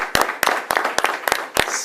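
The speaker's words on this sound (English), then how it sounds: "How about a round of applause?" Applause at a school board meeting rings out as a short burst of sharp, irregular hand claps from a small group, loud and close, with no talking.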